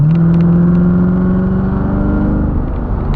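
A 2016 Chevrolet Corvette Z06 accelerates hard on a test drive under automatic gear selection, its loud, close engine note climbing steadily and continuously in pitch for about three seconds, with no talking.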